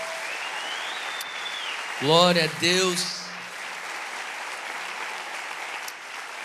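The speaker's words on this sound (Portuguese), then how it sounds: "aplauda Jesus mais forte aonde você está" A church congregation applauds in a steady, even wash of clapping that runs the whole length, with a voice speaking briefly over it partway through.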